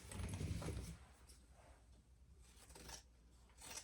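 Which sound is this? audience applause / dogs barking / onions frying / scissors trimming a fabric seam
scissors trimming a fabric seam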